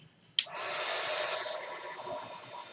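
A hair dryer switches on abruptly and blows steadily to dry gold shimmer chalk paint on a craft house cutout, a loud broadband whoosh that holds and softens slightly toward the end.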